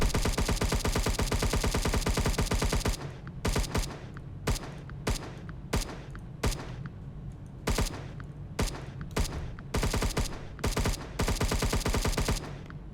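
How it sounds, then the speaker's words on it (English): Rapid bursts of gunfire from guns in a Roblox shooter, a dense continuous volley at first, then broken into short repeated salvos with brief gaps between them, loud and close with no talking. "I'm enjoying shooting these guys a lot with these guns"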